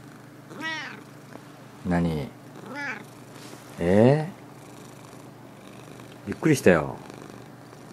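House cat meowing in short, loud cries spaced a second or so apart, close by, with a person speaking briefly between them.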